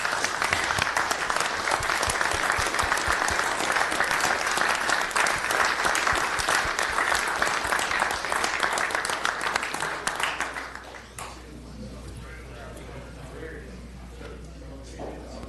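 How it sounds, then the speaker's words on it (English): Audience at a city commission meeting in Rome, Georgia applauds steadily for about ten seconds, a dense even clatter of hands that then stops, leaving quiet room tone. "How about a round of applause for these guys?"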